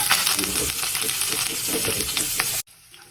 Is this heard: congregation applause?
no